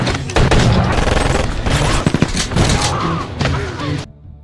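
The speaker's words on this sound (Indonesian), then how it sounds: "sampai terjadilah baku tembak di sana" A loud gunfight in a Jason Statham action film, rapid overlapping gunshots and booms crashing for about four seconds before cutting off abruptly.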